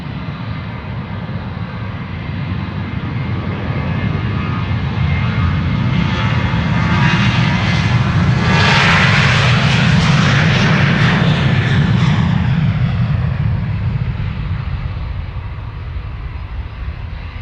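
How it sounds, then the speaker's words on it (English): A 15-year-old Ryanair Boeing 737-800 jet departs Amsterdam Schiphol for Dublin, its engines building to a loud, close roar that peaks mid-clip and then holds as a broad, steady rumble. "this is Ryanair to Dublin, flight 3101, 737-800."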